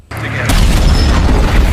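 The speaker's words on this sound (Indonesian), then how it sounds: "tiba-tiba ledakan terjadi di mobil yang dinaiki Morrison" A car blows up in an action film scene from The A-Team: a sharp boom bursts in after a brief pause, then a heavy, loud roar of blast and debris rumbles on without easing.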